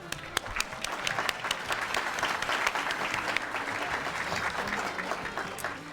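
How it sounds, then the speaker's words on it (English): Sustained applause from an audience at a Hispanic and Latin American Heritage celebration for a school district, a dense, steady wash of many hands clapping with a few sharper claps near the front, no talking. "Let's give it an applause."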